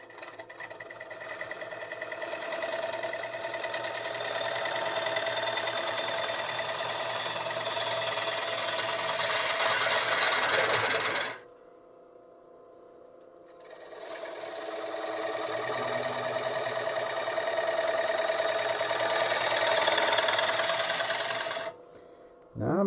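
A wood lathe turns a large ash bowl while a gouge cuts in toward the centre, making a steady, fairly loud whirring scrape that runs continuously, stops briefly, then resumes at the same level.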